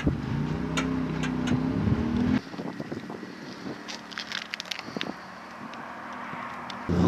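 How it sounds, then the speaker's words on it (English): A car drives in through a gate, its engine rumbling close and loud at first, then dropping to a quieter rolling drone with wind buffeting the microphone and a few light clicks and knocks. "I'm going to be driving in,"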